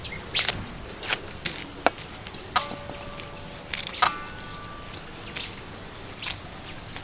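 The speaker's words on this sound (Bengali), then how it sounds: "আমি এখানে কাঁচি দিয়ে কেটে নেব" Scissors snip through drumstick (moringa) leaves in quick, crisp cuts, a series of sharp close clicks spaced irregularly over a quiet background.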